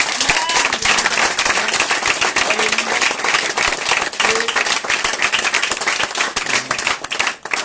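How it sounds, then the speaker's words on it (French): A church congregation claps loudly and continuously at a church inauguration, the thick applause running throughout with some voices and a faint tone mixed underneath. "nous sommes capables d'applaudir le Seigneur pour cela"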